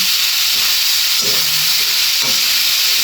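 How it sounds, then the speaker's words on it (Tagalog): Fresh market vegetables for a home-cooked chop suey sizzle loudly in a pan while being stirred, with a steady frying hiss and occasional scrapes and clinks close up. "Yan, hinahalo ng mabuti."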